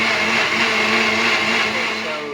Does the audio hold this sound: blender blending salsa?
yes